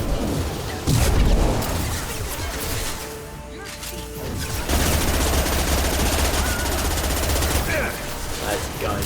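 Gunfire in the Mass Effect 2 video game during a boss fight, dense bursts of automatic shots and crashing impacts that fill most of the clip, briefly easing midway before resuming loud and continuous.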